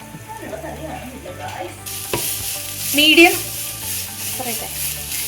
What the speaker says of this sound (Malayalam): ഒരു ചെറിയ 2 അല്ലി വെളുത്തുള്ളി, പച്ചമുളക് 2 എണ്ണം, ഇത്രയിട്ട് നന്നായിട്ട് ഇളക്കുക.